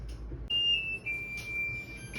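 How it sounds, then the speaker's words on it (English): Kitchen timer going off while sourdough bread bakes in the oven, a thin high electronic tone that wavers and holds for about two seconds, moderately loud over a low room hum. "there is the alarm, or the buzzer's gone off"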